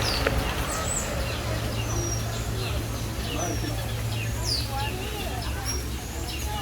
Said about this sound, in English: Definitely some birds over here.